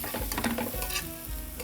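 Onions sizzle in a pan for mushroom lo mein while being stirred, a continuous bright crackle of frying broken by scraping and clacking strokes of the utensil against the pan, close and fairly loud with no talking.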